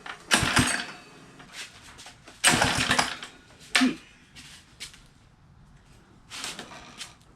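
Someone tries to pull-start a 79cc minibike engine with the choke on, making several separate rasping pulls of the recoil cord, each a short burst of rattling clatter with quiet gaps between, close by.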